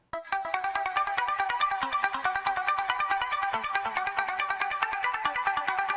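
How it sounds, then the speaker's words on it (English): A bright synth arpeggio with a fast delay, pitched an octave up, plays steady rapid notes for the whole span with no voices, part of an electronic track's transition section. "the ARP sounds different. Sounds like this now."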